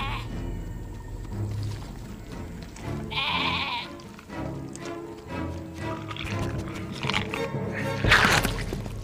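Zombie sheep bleat in a horror film, wavering cries that rise out of a dense, cluttered soundtrack of rumbles and effects, with one louder, shrill burst near the end.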